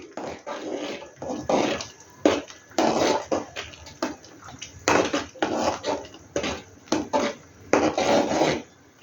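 A spoon stirs sambar premix powder into a pot in repeated scraping, rasping strokes against the metal, about a dozen quick bursts with short pauses between, close and fairly loud.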